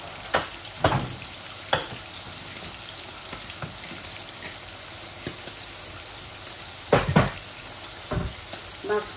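Fish frying in a pan with turmeric and coriander spices, a steady hiss running throughout, broken by a few sharper utensil knocks and scrapes, close and alone without speech.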